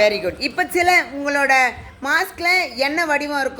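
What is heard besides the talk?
No everyday noise stands out behind the speech.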